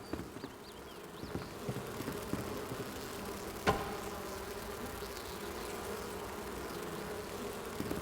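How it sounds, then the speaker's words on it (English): Bees buzzing in the survival video game Enshrouded, a continuous low drone with faint wavering tones and one brief sharp click midway. "I can hear buzzy bees."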